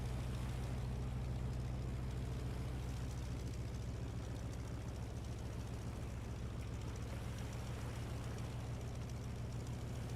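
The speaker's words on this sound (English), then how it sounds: "Let's give her max revs for a minute here." A boat engine in the game Stormworks runs at maximum revs, giving a steady, continuous low drone that stays constant throughout with no talking.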